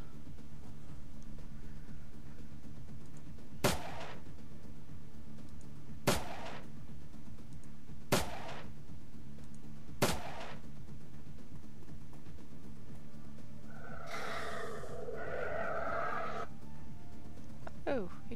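Pistol gunshots in the tactical RPG Shadowrun: Dragonfall, four sharp, moderately loud single cracks spaced a few seconds apart over low background music, followed by a short burst of other game sound.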